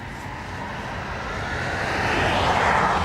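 Ryanair airliner at Dublin Airport on runway 28 right, its jet engines a broad steady roar that swells louder over a few seconds as it powers up nearby, with no talk.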